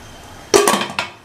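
A spoon clanks against the metal pot of a pressure cooker while soaked chickpeas, water and salt are stirred: a few quick, close scraping knocks after a quiet start.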